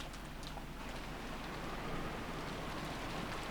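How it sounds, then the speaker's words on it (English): Steady rain falling in the Umineko visual novel as characters walk to the mansion, a continuous even hiss of downpour with no talk over it. "What is this, rain?"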